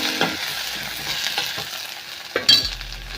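Spinach being stirred in a pan of hot oil tempering with turmeric and chillies, a steady sizzle with a few scraping clinks of the spoon against the pan, close and alone.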